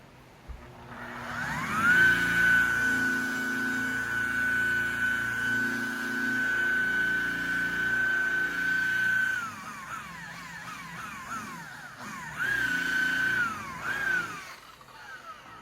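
A car polisher working heavy duty compound on the paint of a 2019 Toyota Corolla, a loud sustained whine with a steady tone that drops and sweeps as the speed changes, then spins up again briefly near the end.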